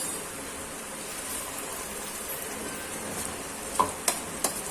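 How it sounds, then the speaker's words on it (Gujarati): Fried onions in a pan with tomato puree stirred in, giving a steady soft sizzle and scraping, with a few sharp clacks of the spoon near the end. "હવે તેમાં આપણે ટામેટાની પ્યુરી નાખી દઈશું"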